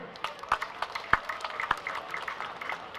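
Scattered, thin applause from festival-goers who joined a carnival, heard at the opening of the WAVE 2023 event in Wakatobi, with irregular claps rising and falling at moderate distance under background murmur.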